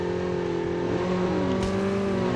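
A motorcycle engine in Call of Duty Mobile drones with steady tonal harmonics that rise and shift as it revs, loud and continuous with no talk.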